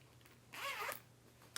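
A clothing zipper on the back of a handmade garment is pulled once in a quick, close rasp lasting about half a second, with no talking.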